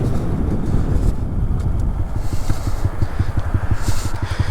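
A Honda XR50 dirt bike engine runs steadily up close, a continuous low rumble with regular pulsing firing beats that grow more distinct partway through, with no voices.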